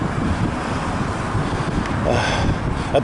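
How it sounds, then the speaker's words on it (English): Strong wind buffets a microphone outdoors, a loud continuous low rumble with gusting swells throughout the clip. "I'm going to raise my voice a bit because it's a bit windy."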